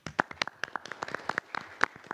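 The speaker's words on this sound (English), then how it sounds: "let's give them a round of applause" A small crowd at a regional transportation planning meeting claps for a newly elected chair and vice chair, a brief round of scattered, uneven claps of moderate loudness, with no talk over it.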